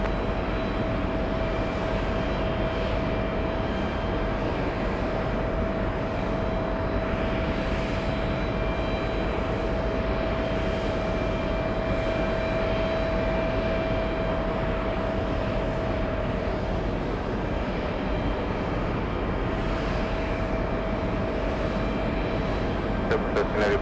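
A Boeing 777 jet takes off, heard as a steady, loud broadband engine roar with a faint whine that holds for the whole stretch, with no voices.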